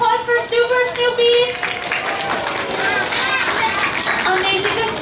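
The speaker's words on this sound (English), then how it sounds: "Can we get one more big round of applause for Super Snoopy?" A crowd at Camp Spooky, Canada's Wonderland, claps for the costumed character Super Snoopy, with mixed applause under children's voices and bright musical tones.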